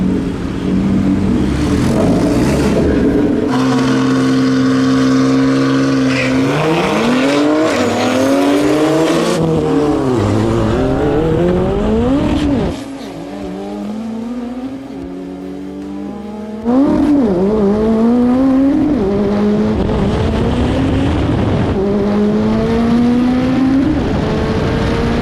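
A 1,000-horsepower Ariel Atom race car accelerating hard, loud, close engine note climbing through repeated gear changes, easing off briefly midway before roaring back up again.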